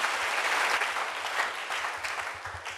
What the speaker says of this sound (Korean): 박수로 주님께 영광 돌려.